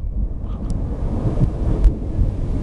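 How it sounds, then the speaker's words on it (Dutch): A thunderclap rolls through a summer thunderstorm, a loud deep rumble with sharp cracks, heard alone without talk. "Wat een donderslag."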